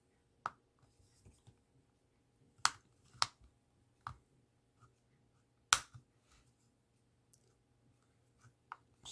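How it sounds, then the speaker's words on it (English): Sparse, sharp plastic clicks and snaps sound up close in an otherwise quiet space as a cheap action camera's plastic casing is pried open, irregular and spaced out, a few louder cracks among softer ticks. "It's making little clicking noises like it's coming loose, isn't it?"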